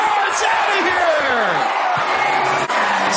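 A sold-out crowd at a Cactus League spring training baseball game roars and whoops for a bases-clearing grand slam home run, a loud, dense wash of cheering with rising shouts.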